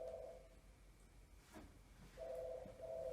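A telephone rings in two faint, buzzing bursts separated by a pause. The tone is thin and distant over a low hum, with no one speaking.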